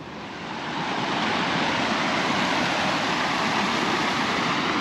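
Heavy rain and water rushing through a farm field with a running tile line, a steady loud broadband roar that swells in over the first second and then holds constant, with no voices.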